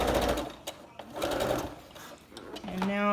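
A sewing machine stitches elastic onto a fabric face mask in quick bursts of rapid mechanical chatter, pausing between runs, with someone talking over it.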